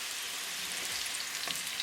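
Cauliflower and potato pieces fry in hot oil over a high gas flame, giving a steady, fairly quiet sizzle and crackle with a few brighter pops near the end.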